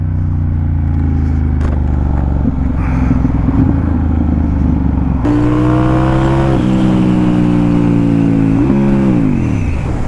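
A Ducati Diavel motorcycle accelerates hard in second gear, its engine loud and close, rising in pitch through sustained pulls, with a sharp jump in intensity partway through.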